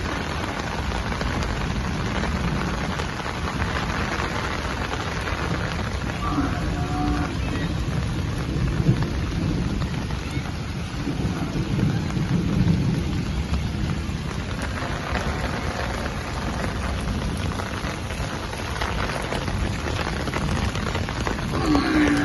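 Dense, steady rain roars continuously at Bhakra Dam for the whole stretch, with low thunder rumbles swelling in and out beneath it.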